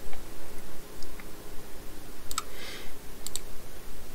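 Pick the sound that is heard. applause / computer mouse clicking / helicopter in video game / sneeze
computer mouse clicking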